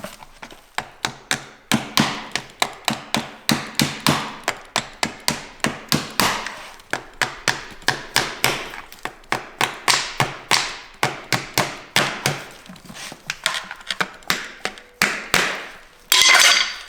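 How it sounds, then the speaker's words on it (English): A hammer gouge is struck repeatedly against a handmade concave horseshoe, giving a close, loud, steady run of sharp metallic blows, roughly a few per second, with brief pauses between bursts. "Hammer gouge."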